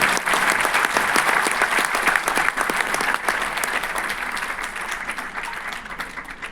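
Enthusiastic applause from a crowd at a merchants' honouring ceremony as women are felicitated on stage, loud steady clapping that gradually eases.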